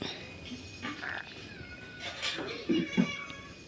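A cat meows a couple of times, short mid-pitched calls near the end, over a quiet indoor background with faint voices.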